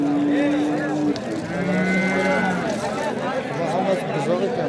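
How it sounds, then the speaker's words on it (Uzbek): Calves bellow and moo repeatedly at a crowded livestock bazaar in Uzbekistan, loud and close, with several overlapping calls amid steady crowd noise and people talking nearby. "Hammasi buzoq ekan."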